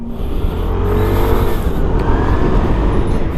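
An Aprilia SR-GT200 scooter accelerates on the road, its engine droning under a heavy rush of wind noise, loud and steady throughout.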